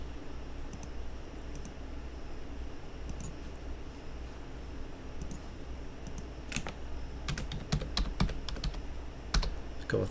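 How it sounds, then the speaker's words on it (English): Typing on a computer keyboard during a SolidWorks 2016 drafting session: a few isolated key clicks early, then a quick burst of rapid keystrokes near the end, close and crisp over a low steady room hum, with no talking. "Just going to type in here."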